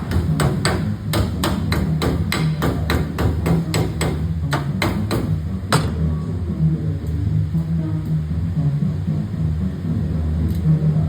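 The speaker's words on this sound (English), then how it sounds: "And then I take my hammer" Sharp hammer blows drive staples into chicken wire on a Carson top, a quick run of about twenty close, loud strikes for six seconds, then a lone knock after a steady low hum.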